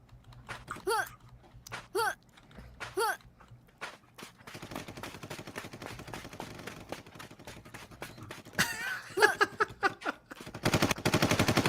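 Rapid bursts of automatic gunfire from a multiplayer shooter video game rattle in fast repeated volleys, mixed with keyboard clicks and a few short vocal sounds.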